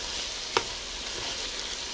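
Squash, sweet potato and potato stir-frying in a pan for vegetable spring rolls give a steady, even sizzle throughout, broken by one brief sharp click near the start.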